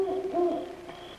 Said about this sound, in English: Sounded like an owl.